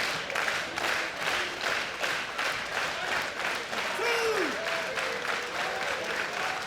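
A sold-out crowd at a women's wrestling show in the Rebel Entertainment Complex, Toronto, applauds steadily, dense clapping filling the hall throughout, with a brief voice rising midway.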